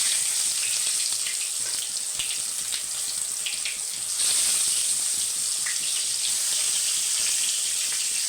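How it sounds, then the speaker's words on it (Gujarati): Tomatoes sizzle in hot oil seasoned with cumin, asafoetida and turmeric for a village-style Kathiyawadi tomato chutney, a steady crackling fry heard up close with a brief louder burst midway. "હવે ટામેટા મૂકી દઈએ આ રીતના. તો આ રીતના મૂકી દેવાના તેલમાં."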